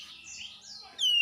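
A kacer, the oriental magpie-robin, sings a short burst of bright whistled notes ending in a sharp, loud descending tone.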